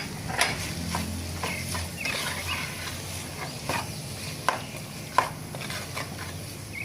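Large-cut bilimbi pieces tossed into a frying pan for a quick party bite and stirred, with scattered clicks and scrapes of the spoon over a soft, steady sizzle.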